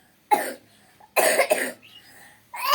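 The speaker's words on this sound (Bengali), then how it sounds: "এমন হাসছে, কাশি পাচ্ছে।" A young child coughs from laughing hard, three separate bursts of rough, breathy coughing broken by short silences, close and fairly loud.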